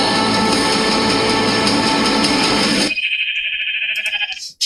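A sheep bleats from the Minecraft movie trailer: a dense, loud texture of bleating and music for about three seconds, then thinner sustained tonal calls over near-silence.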